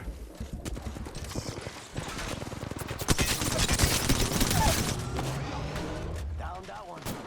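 Rapid bursts of video game gunfire clatter through a busy, dense mix of loud game sound, building in intensity midway and staying heavy to the end.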